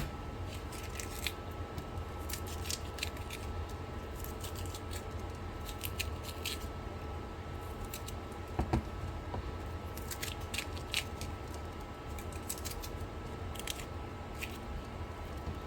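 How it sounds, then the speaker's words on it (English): Knife dicing seeded jalapeño peppers on a cutting board, with bursts of quick crisp chops separated by pauses, faint and steady against low background hiss. "what I'm going to do is I'm going to dice this up as well."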